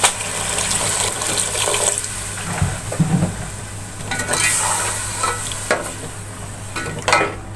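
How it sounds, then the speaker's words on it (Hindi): A glass of water poured into a pan of frying goat intestine curry on a home stove, bringing a steady sizzle with scraping stirs and splashes throughout, close and loud. "अब इसमें मैं 1 गिलास पानी शामिल कर लूंगी"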